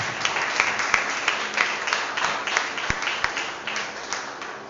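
Congregation applauding during a church service, a sustained burst of many clapping hands with a few louder individual claps standing out, fairly near and without talk.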